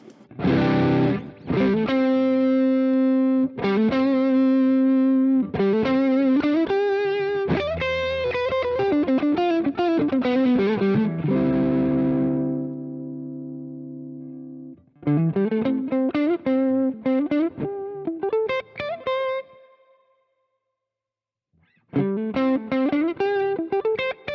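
Electric guitar through a Fulltone Full-Drive 1 overdrive pedal plays riffs with chugging low notes and chords, in bursts with a short silent gap near the end.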